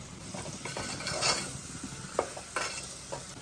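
Finely chopped valor beans hit a hot pan for a Kathiyawadi vegetable dish, giving a soft continuous sizzle broken by scattered spoon clinks and scraping stirs, close but fairly quiet.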